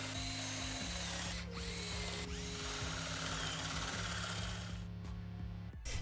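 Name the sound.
drill boring holes in cherry wood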